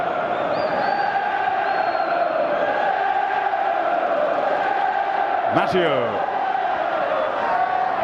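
Football crowd at Anfield during a Liverpool versus Newcastle United Premier League match, a steady roar of the stadium crowd warming up under constant commentary, with a brief louder swell midway.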